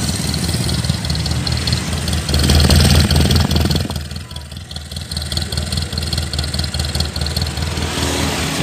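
A small engine of a 1987 Suzuki Carry Extra idles roughly, then briefly revs louder before settling back to a steady, throbbing idle nearby.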